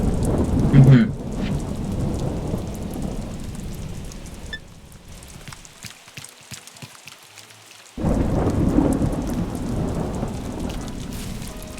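Thunderstorm with steady rain in Animal Crossing: New Horizons, a continuous hiss of rainfall with low rumbling thunder, dropping quieter in the middle before the full downpour returns.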